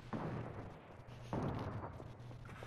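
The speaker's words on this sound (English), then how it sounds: "Oh, gee, I hate that freaking grenade launcher." Grenade launcher explosions in Fortnite, two booming blasts about a second apart, each a sudden thump followed by a rumbling decay, moderately loud.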